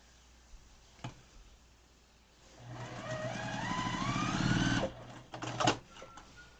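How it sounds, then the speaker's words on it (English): A sewing machine stitching tiny quilt pieces runs for about two seconds, a rapid mechanical whir that rises in pitch as it speeds up and then stops abruptly, with a few clicks and handling knocks before and after. "we'll sew this little tiny piece"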